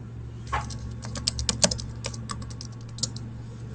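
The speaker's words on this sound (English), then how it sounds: "Get some typing sounds in this." Quick, irregular clicks of keys being typed on a computer keyboard, close up over a low steady hum.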